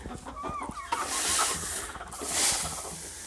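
Chickens on a farm cluck and murmur in a winter coop, with overlapping hen calls and a few sharper squawks, close by, with no talk over them.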